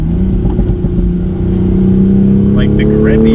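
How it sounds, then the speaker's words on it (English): A Toyota A90 Supra on a race track, its engine and exhaust droning steadily from inside the cabin with a rising pitch, while someone talks over it. "I love the exhaust, but part of me thinks it gets a little annoying after a while"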